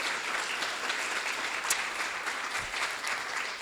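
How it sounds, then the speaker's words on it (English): A room full of students claps at a class academy awards show, a dense, even wash of applause that holds steady throughout at close range. "So give yourselves a round of applause."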